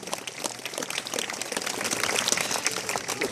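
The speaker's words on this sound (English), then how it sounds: "give Magro a great big round of applause. She's done a great job." A small outdoor audience at a bird show in a Melbourne sanctuary claps for a bird, giving soft, scattered applause that builds slightly toward the end.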